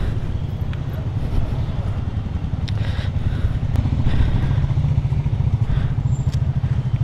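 Royal Enfield motorcycle on a highway, a loud steady engine drone with wind rumble and occasional light clatter throughout, heard up close from the rider's position.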